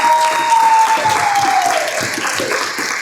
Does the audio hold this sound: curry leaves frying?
no